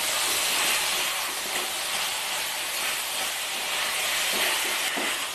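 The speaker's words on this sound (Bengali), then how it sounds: "এবার আমি এর মধ্যে দিয়ে দিচ্ছি কেটে রাখা আলু। মশলার সঙ্গে আলু খুব ভালোভাবে মিশিয়ে নেব।" Cut potatoes are stirred into spice masala frying in a pan for a vegetable curry, giving a steady close sizzle and hiss with faint scraping, no talking.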